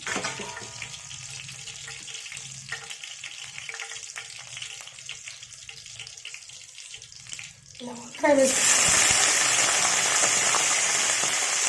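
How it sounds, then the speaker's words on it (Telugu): Cut brinjal pieces soaked in water are tipped into a pan with curry leaves, and a quiet stretch of faint kitchen noise gives way to a sudden loud, steady hiss that continues to the end. "ఇలా వంకాయలు వేసుకోవాలండి, నీళ్ళల్లో తొరిగి పెట్టుకున్న వంకాయలు"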